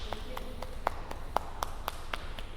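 A small group claps sparsely at the close of a power yoga class: a handful of distinct, fairly quiet hand claps spaced irregularly over a soft room background.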